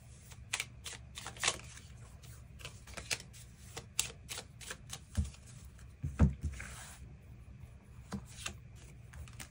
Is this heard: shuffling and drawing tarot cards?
yes